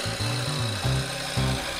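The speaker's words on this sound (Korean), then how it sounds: "저희 아버지께서는 목재 절단기를 이용해 나무를 잘라주셨고" Wood being cut to length with a powered timber cutting saw while making a small indoor pond frame; a loud droning motor with the pitch dropping and rising across a few short cuts, close by and with no talk.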